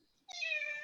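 A house cat lets out a single sustained meow close to the microphone, starting abruptly after a near-silent moment, with no one talking.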